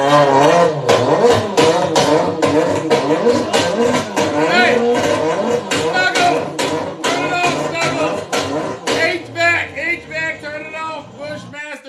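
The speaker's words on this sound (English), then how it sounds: "The engine's backfiring and misfiring left and right." A car engine backfiring and misfiring revs in rough, uneven surges, loud and close, and someone shouts once near the end.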